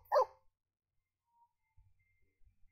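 A dog in The Sims 4 gives one short, clear bark, followed by near silence with a few faint soft thumps.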